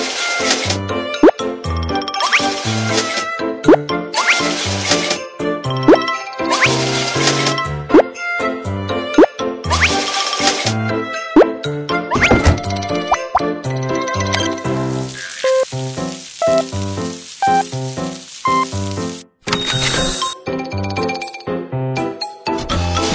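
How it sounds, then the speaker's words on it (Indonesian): Cookies baking in an oven in a Baby Bus children's cooking video game: bright cartoon plops, chimes and a light sizzle over a steady, cheerful music track. "Masukkan cookie ke dalam oven untuk dipanggang."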